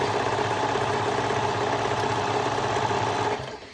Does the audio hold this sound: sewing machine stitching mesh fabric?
yes